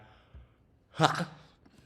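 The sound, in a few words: yawning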